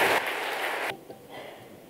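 A short burst of audience applause fills the hall at a book release speech, then cuts off abruptly, leaving faint room noise.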